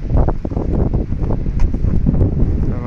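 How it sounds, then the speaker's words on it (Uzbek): Steady wind gusting across an open outdoor field on a cold, sunny day, a continuous rough rumble of buffeting microphone noise with no voices. "bir tomondan shamol bo'lyapti"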